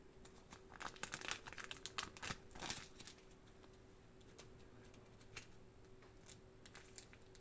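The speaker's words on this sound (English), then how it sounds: "And this is also actually in a plastic bag. I'm going to open this up" Faint crinkling and rustling of a plastic bag being opened around a Dual Model Kit Bumblebee, with dense bursts in the first few seconds and then sparser crackles against a quiet background hum.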